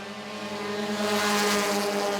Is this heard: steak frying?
no